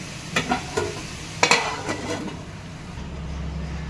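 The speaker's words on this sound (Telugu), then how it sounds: "మంచిగా మటన్ని ఆయిల్లో మంచిగా మగ్గనియాలన్నమాట" Mutton fries in oil in a pan with a soft, steady sizzle. A few clinks and scrapes of stirring come early, then the frying settles to a quieter, more muffled hiss.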